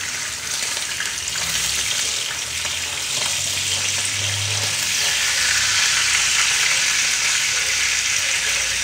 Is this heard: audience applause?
no